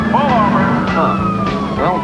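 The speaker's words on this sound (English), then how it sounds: "they're right behind us with lights flashing and sirens going" A police siren wails in rising and falling sweeps close by, with a steady engine hum underneath.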